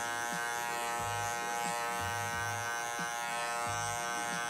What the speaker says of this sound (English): Sometimes you can use that corner of the clipper and just start creating your fade with just the corner of that blade to get more detailed.